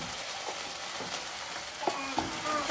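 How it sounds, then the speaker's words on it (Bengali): Lentil-paste, egg and onion fritters fry in hot oil, giving a steady soft sizzle throughout with a few faint clicks of stirring near the end. "মা যে রান্না করছে, মুসুর ডাল বাটা আর ডিম একটা ফাটিয়ে পেঁয়াজ মিশিয়ে বড়া ভাজছে"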